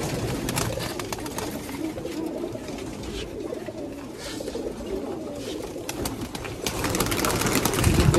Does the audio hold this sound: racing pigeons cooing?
yes